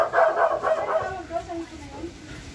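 A dog barks several times in quick succession, fairly close, with people talking over it.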